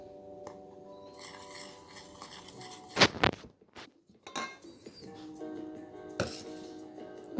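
Clafoutis batter being mixed in a bowl, with clinks and scrapes of a utensil against the dish, a few sharper knocks standing out, close and fairly quiet.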